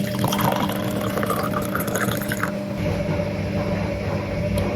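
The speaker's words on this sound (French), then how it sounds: "je vais verser un verre avec vous" Warm red bissap hibiscus drink poured into a glass, a close steady liquid stream that trickles and fills for several seconds, with faint clinks and creaks and no voices.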